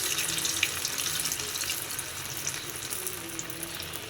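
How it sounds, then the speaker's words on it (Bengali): Sliced onions fry in a karai over medium-low heat, giving a steady, soft, even sizzle with a faint crackle throughout and no voices. "মিডিয়াম টু লো হিট করে পেঁয়াজগুলা ভাজতে হবে"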